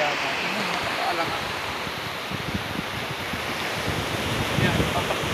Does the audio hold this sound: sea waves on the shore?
yes